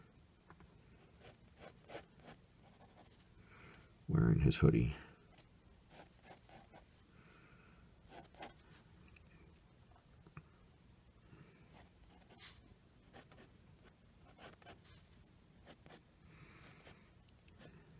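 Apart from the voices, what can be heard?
pencil drawing on paper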